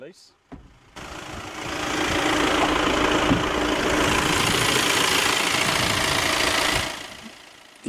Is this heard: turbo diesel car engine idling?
yes